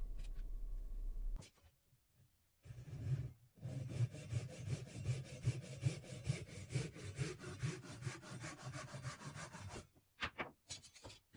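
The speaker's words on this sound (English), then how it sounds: "I'm just cutting off the waste on the butt end of the tool handle, and then I cut off the waste on the front end" Rhythmic back-and-forth strokes of a saw cut waste wood off the end of a wooden tool handle, close and fairly quiet, after a short pause and ending with a few scattered taps.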